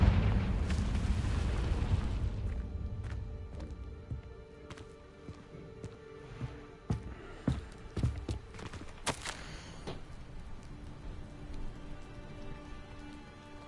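Fiery Confringo blasting spell explosions in the video game Hogwarts Legacy: a rumbling burst at the start, then a run of sharp cracking booms and crackles that fade into a quiet ambient rumble.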